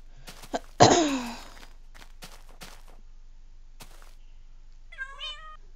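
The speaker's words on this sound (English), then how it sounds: "Cats! Why do you meow?" A cat meows once, a close, loud, falling cry, followed by a few scattered soft knocks and a short chirping trill near the end, against a quiet room during Minecraft play.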